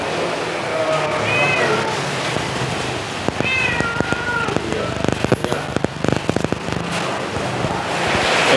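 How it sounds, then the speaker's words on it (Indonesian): A cat meows a few times at moderate distance over steady outdoor rain-like noise, followed by a burst of crackling pops; heavy rain, in Indonesia. "Kucing."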